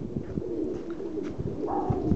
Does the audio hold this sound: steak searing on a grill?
no